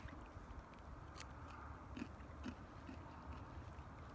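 Someone munches popcorn outdoors on a Lake Michigan bay at sunset. Soft, close crunches and bites repeat irregularly over a steady low wash of wind and waves.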